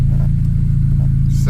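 Turbocharged Chevy Cobalt SS with Ecotec engine pulling away in first gear, a loud steady low rumble with a pulsing exhaust beat throughout, close and continuous.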